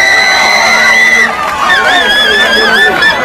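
A crowd cheers and claps loudly and without a break at an album launch held at a workshop, with high whistling or ululating tones rising over the steady roar.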